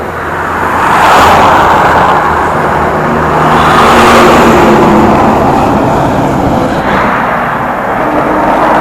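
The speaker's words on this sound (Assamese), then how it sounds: "ট্ৰাক এখন আহি আছে" A truck approaches along a roadside, its broad engine rumble swelling and easing in long loud waves with no talk over it.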